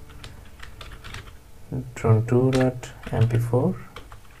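A command is typed on a computer keyboard as a steady run of close, light key clicks heard under someone speaking.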